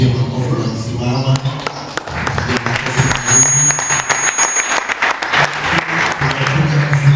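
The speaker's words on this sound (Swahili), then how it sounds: "tuwapigie makofi na kusimama" Church congregation standing and applauding together, loud dense clapping sustained throughout, with a voice speaking over it and a brief high tone in the middle.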